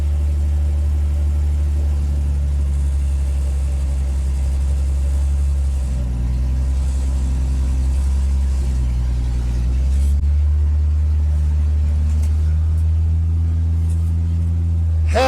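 A Ford Falcon car engine with manual steering rumbles loudly and steadily as it rolls down a driveway, the pitch shifting mid-way as the throttle changes, heard close throughout.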